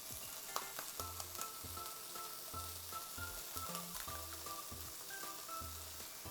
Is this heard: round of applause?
no